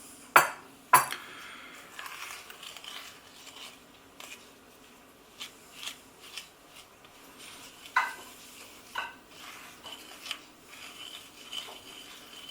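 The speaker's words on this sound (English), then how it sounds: "I'm using a pressing action to make sure it combines." Biscuit dough for fruit shortcake biscuits being mixed with a spatula as flour goes in, with soft scraping and pressing strokes broken by a few sharp clicks of the utensil against the bowl. The sounds are quiet and close, and nobody speaks.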